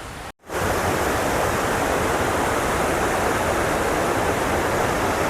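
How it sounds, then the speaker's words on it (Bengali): A small waterfall at the Jhalong picnic spot in West Bengal pours in a loud, continuous roar of rushing water after a brief dropout at the very start. "ওই যে একটা ছোট ঝর্ণা,"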